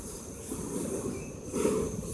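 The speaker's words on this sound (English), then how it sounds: "Very long freight. Going so slow." A long, slow CSX freight train rolls past on the Trenton Subdivision, a steady loud rumble of wheels and cars with a faint squeal, continuous and nearby throughout.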